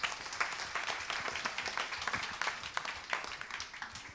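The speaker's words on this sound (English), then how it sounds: "Great applause again, please" An audience at an opening ceremony claps after a student choir's songs, a crisp patter of many hands, fairly distant and soft, with individual claps standing out through the steady clapping.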